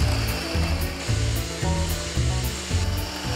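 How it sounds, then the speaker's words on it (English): An electric mixer beats eggs and caster sugar for a cake batter, a steady close motor whir with a faint rhythmic pulse roughly every half second as the beaters sweep the bowl. "You're going to beat the eggs and the sugar until they're pale and fluffy."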